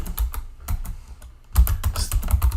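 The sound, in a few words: typing text on a computer keyboard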